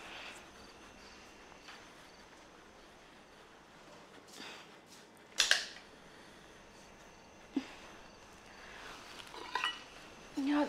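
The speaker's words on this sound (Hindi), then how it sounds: "इतनी रात को बर्तन क्यों गिर रहे हैं" Metal utensils clattering and falling at night, a few faint scattered clinks and one sharper clatter against a quiet hiss, with soft background sounds between them.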